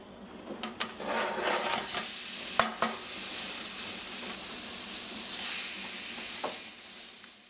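Sausages sizzle steadily in a frying pan, a dense continuous crackle with a few sharp pops and clatters of utensils or the pan near the start, close and fairly loud throughout.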